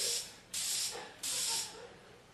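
Hairspray hissing from an aerosol can in two steady bursts, each about half a second long, close and fairly quiet with short pauses between them.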